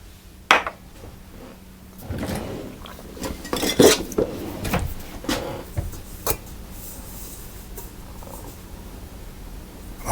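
Flour and yeast are being stirred together in a bowl, with scattered clinks and scrapes of a utensil against the bowl and a few louder knocks, close and without talk.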